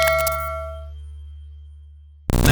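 A single bright notification bell ding rings out and decays slowly over about two seconds, followed by an abrupt burst of a different loud sound at the end.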